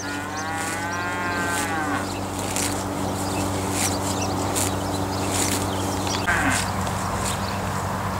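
A cow out on pasture rasps grass from the ground with its tongue, making close, rhythmic tearing scrapes about every half second. A low moo sounds at the start, and a steady low drone runs underneath.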